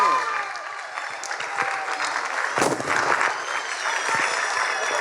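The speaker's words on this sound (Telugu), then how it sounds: "ప్రాప్స్ నప్పితే గట్టిగా కొట్టాలి చప్పట్లు." Audience clapping at a stage event, the applause dense and steady throughout, a sustained wash of many hands with no pause.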